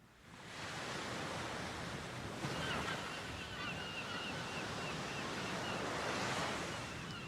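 Ocean waves wash onto a beach at the opening of Iron Maiden's Darkest Hour, a steady, broad surf roar swelling and receding gently, fairly quiet and continuous after a brief soft start.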